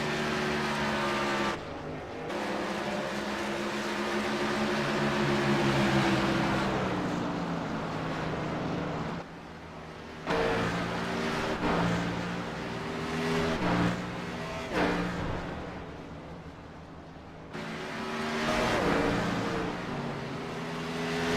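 A NASCAR Xfinity Series race car engine roars loudly at Bristol during single-car night qualifying, its pitch climbing and dropping as it shifts through gears and sweeps past, with brief lulls between passes.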